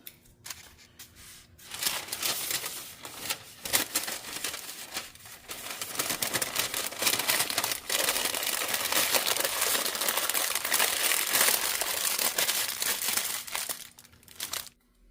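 A plastic bun bag crinkles and rustles up close as cheeseburgers are packed into it for the freezer, busy crackling bursts that start after a brief quiet and keep going, no voices.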